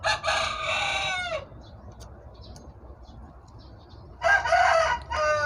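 Beside a chicken coop, a rooster crows twice in long, strained calls at the start and the end, with quieter background clucking and faint ambient noise between the crows.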